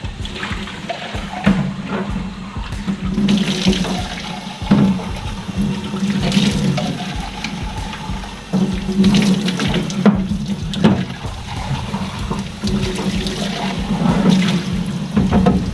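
Water pours and splashes steadily while an RC car is being rinsed down, a continuous close running-water wash with brief surges and no talking.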